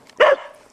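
A dog gives one short, sharp bark close by, alone in otherwise quiet surroundings in the snow.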